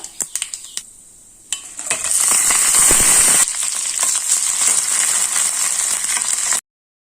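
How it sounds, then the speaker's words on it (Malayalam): Mustard seeds spluttering in hot coconut oil with dried chillies: sharp pops at first, then a loud continuous sizzle and crackle from the pan, close by and with no talking, before the sound cuts off. "എണ്ണ ചൂടായി കഴിയുമ്പോൾ അതിലേക്ക് കുറച്ച് കടുക് ഇട്ട് കൊടുക്കാം. കടുക് പൊട്ടി തുടങ്ങുമ്പം അതിലേക്ക് 3 വറ്റൽമുളകും"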